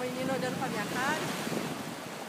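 Ocean waves wash continuously at Guarujá beach, a steady broad roar of surf mixed with wind buffeting the microphone, with faint voices in the background.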